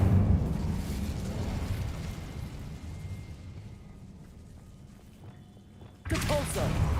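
A low magical rumble from a Harry Potter video game's Incendio fire spell gives way to a sudden fiery burst near the end, with a voice speaking over part of it.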